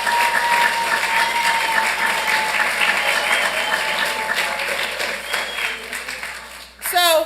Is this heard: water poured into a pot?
no